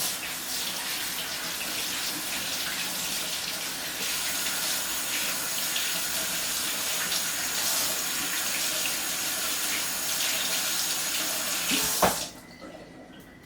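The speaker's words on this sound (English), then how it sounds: "now let me wash my hands" Hands rinse under a running kitchen tap in a steady, loud rush of water that goes on unbroken for about twelve seconds, then cuts off with a clunk as the faucet is shut.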